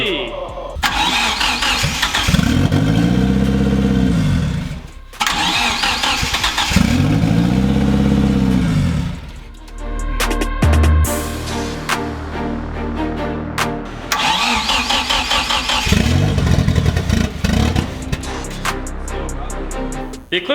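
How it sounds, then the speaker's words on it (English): A mid-engine Mitsubishi Eclipse car engine cranks in repeated, loud starter bursts, then catches and revs in sharp, uneven pulses, close to the microphone, with voices now and then. "The Eclipse runs."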